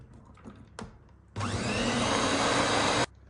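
An electric hand mixer whisks cake batter with milk and oil in a short, loud, even whir lasting under two seconds, preceded by a few soft bowl knocks.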